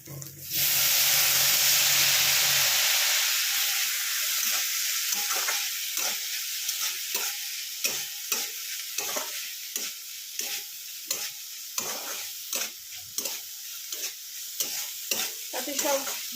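Sliced potato, beetroot and carrot bhaja fry in a pan, a loud burst of hissing steam as water hits the hot oil, then a spatula scrapes and stirs in a steady repeating rhythm over a softer sizzle.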